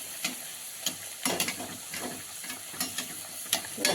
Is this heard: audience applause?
no